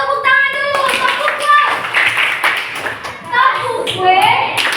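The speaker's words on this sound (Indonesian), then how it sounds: "tepuk tangan dulu" Hands clapping in a classroom lesson: a burst of many people applauding together, dense and sustained, with children's voices and talking mixed in.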